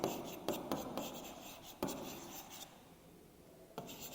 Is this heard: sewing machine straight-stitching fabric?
no